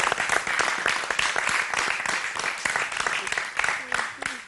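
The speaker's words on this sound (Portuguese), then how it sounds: "Uma salva de palmas, por favor!" An audience applauds Miss Angola at a televised beauty pageant appearance, dense clapping filling the room near and loud, with a voice speaking over it.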